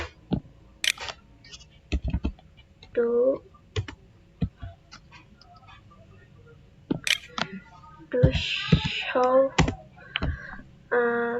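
A computer keyboard clacks in short bursts of keystrokes while a Cisco VLAN command is typed, crisp and close, with someone speaking between and over the typing.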